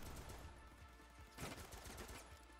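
Gunfire in the Roblox shooter Phantom Forces, a run of quick shots that ends in a louder burst before trailing off, with no talk.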